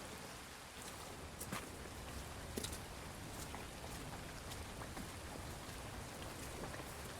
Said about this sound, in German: Gegen Mittag immer noch Regen.